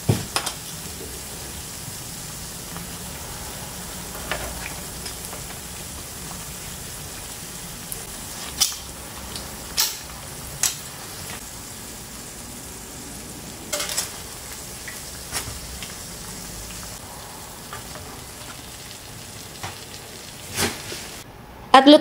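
A corn dog deep-frying, fully submerged in hot oil in a deep pan, gives a continuous dense sizzle and bubbling crackle. The sizzle stays close and steady with occasional louder pops, and no one speaks.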